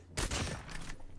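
A single gunshot in the mobile shooter game Call of Duty Mobile, a short sharp burst with a quick tail, fairly quiet and heard alone.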